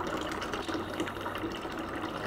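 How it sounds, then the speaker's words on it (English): Water runs steadily from a tap into a pigeon's shower, a continuous close splashing hiss with no talking. "There's water everywhere, Pete."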